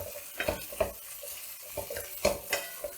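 Stirring in a pan as green chillies go into frying mutton liver, with a few scraping, clinking strokes of a spoon against metal over a soft sizzle, spaced out across a short stretch.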